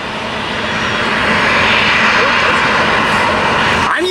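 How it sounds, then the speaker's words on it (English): An Alaska Airlines Boeing 737 without winglets, in new livery, roars steadily during takeoff as a loud, sustained jet engine rumble with a broad hiss, heard outdoors. "Here's another Alaska 737 about the takeoff."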